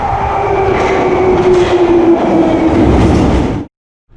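A London Underground train at Bank Station rumbles loudly and continuously with a rising whine and rattling wheels, close by, before cutting off abruptly.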